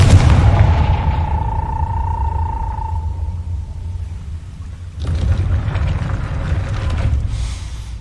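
A Confringo spell explodes in the game Hogwarts Legacy, a loud booming blast with a ringing tone that decays over about three seconds. Rumbling continues, and a second burst of noisy crackle follows.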